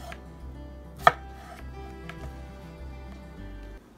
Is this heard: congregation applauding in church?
no